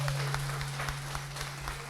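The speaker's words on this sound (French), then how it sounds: "Et ça s'applaudit, s'il vous plaît." Studio audience applause during a live French radio-style show, a dense, moderately faint patter of clapping over a steady low electrical hum.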